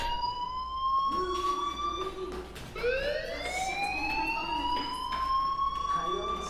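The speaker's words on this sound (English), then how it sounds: "Hey, do you hear that fire alarm? That means you should be outside." A school fire alarm rings in the Life is Strange video game, producing a steady wailing tone that sweeps upward in repeated rising cycles over a constant background hum.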